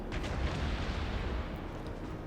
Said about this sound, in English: And it is within a good range for the Montana's guns to start really hitting it.